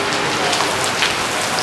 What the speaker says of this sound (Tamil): செம்மையாக மழை பெஞ்சிட்டு இருக்குது